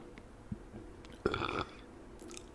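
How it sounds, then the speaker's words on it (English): A single close, loud burp about a second long, recorded in intimate binaural ASMR style, standing out against a quiet background with faint mouth sounds before and after. "love a good ASMR burp."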